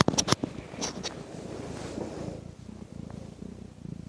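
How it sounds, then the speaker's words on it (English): A pet cat purrs up close in a steady rhythmic rumble, loud and intimate, after a few brief rustling bumps at the start. "Oh, you're purring."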